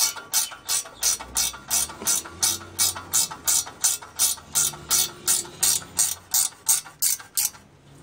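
A ratchet tightening a heat shield bolt on a Mitsubishi Evo exhaust, about twenty quick even clicks in a steady rhythm, close and clear with nothing else heard.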